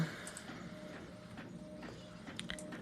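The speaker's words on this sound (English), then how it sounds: "Now we're going to print our purge page." A sublimation and eco solvent printer prints a purge page, giving off faint mechanical whirring with soft scattered clicks and ticks throughout.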